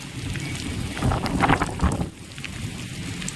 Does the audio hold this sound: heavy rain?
yes